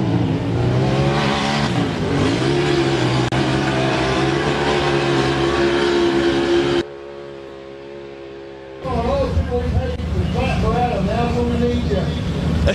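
A vehicle engine roars at wide-open throttle while straining up a steep slope. The loud, sustained drone dips briefly midway, then surges back.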